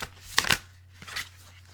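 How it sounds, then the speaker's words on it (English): Tarot cards are shuffled close by in two quick riffling bursts, the first sharper and louder, the second softer, over a faint low hum. "Cards are turning."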